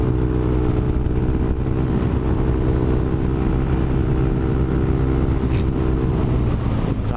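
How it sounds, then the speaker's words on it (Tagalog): Scooter-type motorcycle with a stock exhaust pipe running at a steady cruise, a continuous low engine hum with faint whirring and road noise throughout, no talking. "yung scooter na nga yung motor mo, tapos naka stock pipe ka pa"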